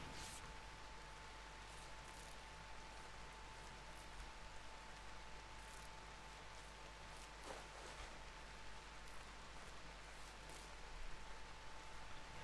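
Steady rainfall in the video game Rimworld, a continuous quiet hiss of falling drops with occasional faint ticks and a thin steady tone underneath.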